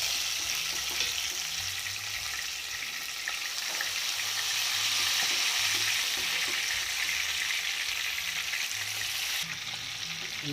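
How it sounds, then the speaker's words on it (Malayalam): Cooked chicken fries in oil with sautéed onions, giving a steady, close sizzle with occasional stirring scrapes and no talking. "നമുക്കിനി ഈ വേവിച്ച് വെച്ചേക്കുന്ന ചിക്കനെ ആ ഉള്ളി വഴറ്റിയ എണ്ണയിലിട്ടൊന്ന് ഫ്രൈ ചെയ്തെടുക്കാം"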